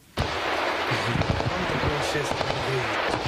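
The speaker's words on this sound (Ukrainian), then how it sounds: "Стріляє з крупнокаліберних кулеметів." Rapid bursts of heavy machine gun fire crackle in quick succession, loud and continuous after a sudden start, with voices faintly underneath.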